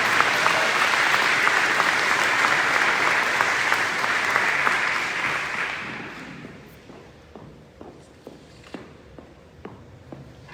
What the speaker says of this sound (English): Let's give her a round of applause tonight.